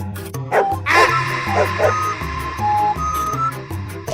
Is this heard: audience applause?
no